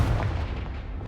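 A Confringo blast spell erupts in Hogwarts Legacy, a deep rumbling boom that rolls on continuously at close range with heavy low-end weight, standing alone without any voices.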